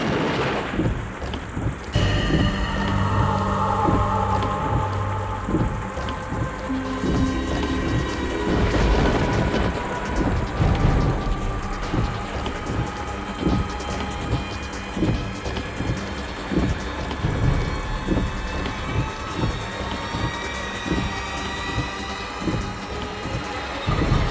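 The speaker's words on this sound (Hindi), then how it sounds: "इतनी तेज बारिश हो रही है" Heavy rain pours steadily with rumbling thunder and booms throughout a long stretch, a loud, dense downpour with no voices, set in a dramatized horror story where a car has run out of petrol.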